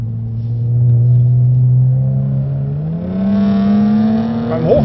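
Jaguar F-Type prototype engine accelerating hard through the rev range, a loud, close, steadily rising drone that swells into a higher, brighter pitch toward the end, with no talk.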